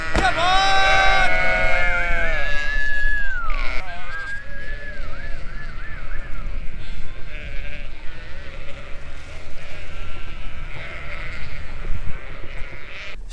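Sheep and lambs bleating in a field, several loud overlapping calls up close at first, then a busier flock murmur with farm bustle.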